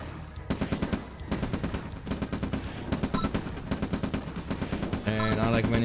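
Rapid rocket fire in a real-time strategy game rattles in dense, evenly spaced bursts, loud and continuous, ending in a heavier electronic blast.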